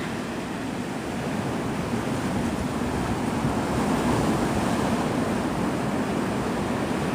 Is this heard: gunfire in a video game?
no